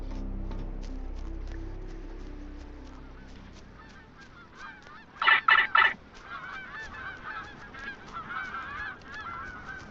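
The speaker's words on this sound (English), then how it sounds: "Many, many gulls." Many gulls call in a video game: a low rumble fades, then three loud sharp honking squawks burst out close together, followed by a busy chorus of softer cries continuing to the end.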